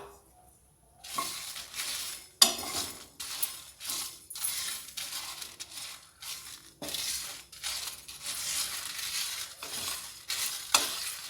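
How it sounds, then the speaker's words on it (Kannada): Dried red chillies, mustard seeds and asafoetida crackle and sizzle in a hot kadai, loud uneven bursts of spitting and popping with short pauses, close and continuous, without speech. "ಇದಕ್ಕೆ ನಾವು ಇಟ್ಕೊಂಡಿರೋಂಥ ಈ ಒಣಮೆಣಸಿನ್ಕಾಯಿ, ಸಾಸಿವೆ ಮತ್ತು ಇಂಗು ಎಲ್ಲ ಜಸ್ಟ್ ಒಂದು ಸ್ವಲ್ಪ ಬೆಚ್ಚಗೆ ಮಾಡ್ಕೊಳ್ಳೋಣ"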